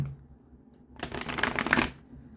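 A brief, crisp riffle of tarot cards being shuffled, about one second of rapid papery flutter after a quiet pause.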